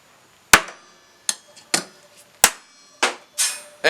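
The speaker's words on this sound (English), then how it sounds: "we're going to hit it and see if we can actually snap that end off" A hammer strikes steel held at the edge of an anvil seven times, sharp ringing metallic blows at an uneven pace, close and loud, with no talking.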